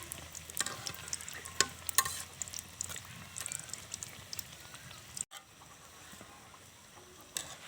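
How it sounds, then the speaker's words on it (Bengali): Singaras (samosas) deep-fry in oil with a busy crackling sizzle and scattered sharp pops, then a brief drop into a quieter, steadier bubbling hiss. "সিঙ্গারাগুলো আমি 10 থেকে 15 মিনিট ভেজে নেব।"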